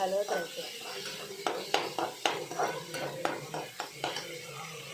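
A spoon stirs and scrapes a masala egg mixture with turmeric in a metal pan, making rhythmic clinks and scrapes with a faint sizzle underneath, close and moderately quiet.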